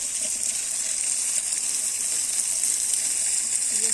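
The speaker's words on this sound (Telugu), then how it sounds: "చూడండి, మొత్తం మురుగు నీళ్ళు వస్తున్నాయి." Dirty sewage water gushes steadily from a motor pump outlet, a continuous loud rushing wash of water with no pauses or talk.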